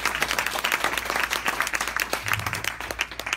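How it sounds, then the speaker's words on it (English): Applause fills a room at a political candidates' forum, with a dense, steady patter of many hands clapping at close range throughout. "Next round of applause for these."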